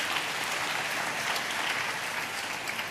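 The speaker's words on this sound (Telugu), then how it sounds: "చప్పట్లు కొడితే యేసయ్యకు స్తోత్రాలు చెప్దాం" A church congregation claps together, an even, continuous patter of many hands heard at moderate distance, steady and unbroken with no speech over it.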